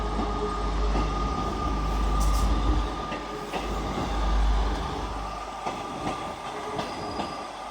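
A Class 158 diesel unit pulls away empty from a Carlisle station platform, its steady low engine drone and rumble of wheels filling the air, with faint rail clatter and no voices.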